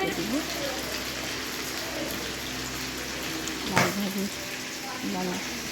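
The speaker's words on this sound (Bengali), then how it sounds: "ভাজি করে ভাজছি চিকেনটা" Village-style desi chicken frying in a pan, a steady dense sizzle running throughout with a brief clatter near the end, voice speaking over it.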